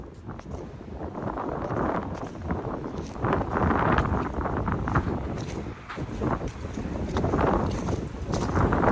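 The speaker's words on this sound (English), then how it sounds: "Windy day here in Rochester, New York." Gusty wind buffets the microphone in uneven roaring surges, loud and close, with no one speaking, in a cemetery in Rochester, New York.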